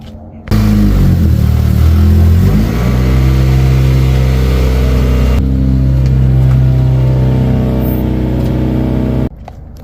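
Acura Integra engine runs loud and close while backing out of a driveway, a steady idle-like rumble with a slight rev change partway, stopping abruptly near the end.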